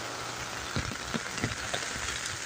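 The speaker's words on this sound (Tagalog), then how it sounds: "medyo maingay ang patak ng ulan." Steady rain pattering on a farm in the early morning, a dense constant hiss with a few louder drops, moderately loud, no voices.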